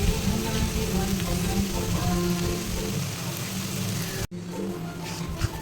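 Chili powder and biryani spice masala sizzling in hot oil in a pan for chicken biryani, a steady, close crackle and hiss that cuts off abruptly, then a quieter sizzle resumes.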